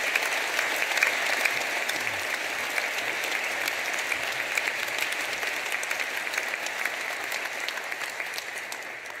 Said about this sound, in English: So can I ask you for a round of applause to thank those people?